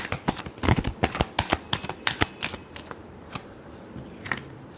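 Tarot cards shuffled in rapid riffling bursts of crisp slaps and flutters, loud and close for about three seconds, then a few scattered lighter card sounds.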